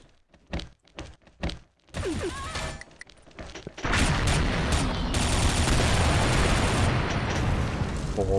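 Gunfire from the online shooter game XSHOT in ghost team mode: a few sharp spaced shots, then a burst, followed by loud continuous rapid firing and explosive noise.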